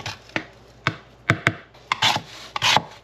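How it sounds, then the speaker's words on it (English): A spoon scrapes and digs through icy ice cream made in a Ninja CREAMi, a series of close, crisp, crunchy scratching strokes at irregular intervals, with no talking. "Hear how it sounds a little icy?"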